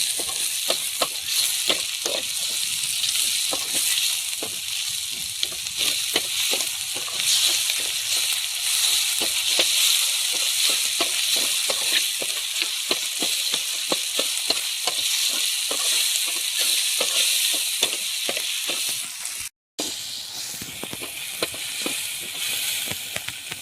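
Tomatoes frying with mutton liver boti in a pan, a loud steady sizzle with frequent stirring scrapes throughout, briefly cut off near the end before resuming.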